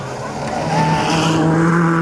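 A Mitsubishi rally car in the Asia Pacific Rally Championship powering through horrible muddy conditions, engine loud and close with rising revs and a rough, splashing edge.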